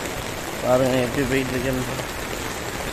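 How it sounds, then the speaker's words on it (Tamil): Heavy rain pours steadily on a flooded street in Chennai, a broad constant hiss with someone speaking Tamil over it. "எப்படி மழை அடிக்குதுன்னு பாருங்கள்."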